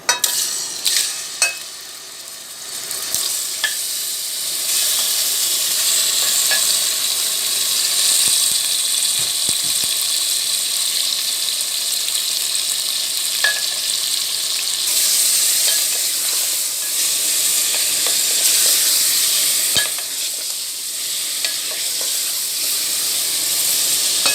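Chicken pieces frying in about half a cup of hot oil in a karahi for Shinwari karahi: a loud, steady sizzle with occasional clicks and stirring knocks throughout, no voices.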